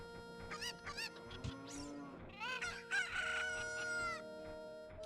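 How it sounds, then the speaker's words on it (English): Angry cuckoo chickens in the video game Ocarina of Time crow and cluck repeatedly, with overlapping, rising rooster-like calls in close succession. "I still want to show you what happens when you tease the cuckoos"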